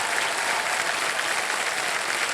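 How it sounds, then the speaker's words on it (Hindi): Studio audience applause on a TV quiz show, a dense, steady wash of clapping held at even loudness throughout, close and without talk over it. "तालियां बज जाए इनके लिए"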